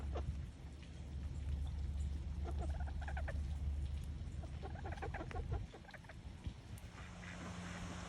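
Chickens clucking after rain on a farm, with short bursts of hen calls repeated over a steady low rumble and wet outdoor background, no voices present.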